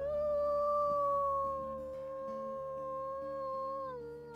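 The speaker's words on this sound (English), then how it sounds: "I'll turn the howls down." Wolves howling in a video game, a long sustained howl that slowly falls in pitch, clear and fairly loud over a low droning game background, with no talking.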